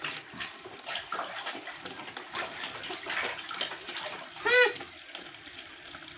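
Water runs from a hand-operated tap in an outdoor village setting, a steady splashing wash with a brief louder gush near the end, beneath faint background voices.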